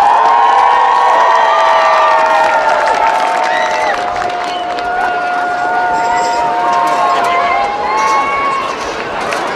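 A loud stadium crowd cheers and shouts as a high school marching band is welcomed onto the field for a halftime show, with a steady roar of voices and whistles throughout.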